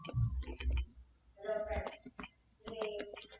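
Keys on a computer keyboard are tapped in quick clusters of light clicks, with a voice faintly present between the bursts.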